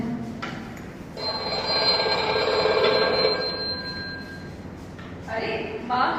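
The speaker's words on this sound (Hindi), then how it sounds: "तभी उसका फोन की घंटी बजती है।" A phone rings in a staged Hindi drama scene, a steady electronic ringing tone that swells and holds for several seconds, fairly close, then fades before another short burst at the end.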